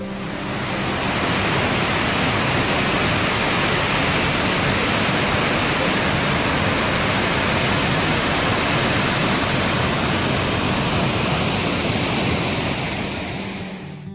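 Bridal Veil Falls in the Columbia River Gorge pours in a steady, dense roar of falling water, loud and unbroken throughout with no voices.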